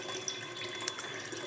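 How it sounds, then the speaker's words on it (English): Tap water runs steadily into a pot being filled to test eggs, a continuous close splashing rush without speech. "filling up a pot with water so we can check if our eggs are good or not"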